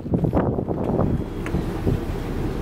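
Wind blusters around a boat being backed out of its dock, a steady broadband rush with rumbling buffets against the microphone that hold at fairly loud level throughout, with no talk.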